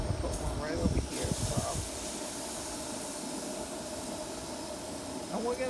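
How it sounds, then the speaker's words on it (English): Pancake batter sizzles on a hot grill over a camp stove outdoors, a steady bright hiss running throughout with a few faint clatters near the start. "because the grill is nice and hot, it's starting to sizzle up."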